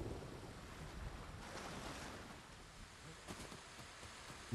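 Steady broadband rush of falling water from a waterfall in the video game Ghost of Tsushima, a continuous wash with faint wind-like hiss and no voices.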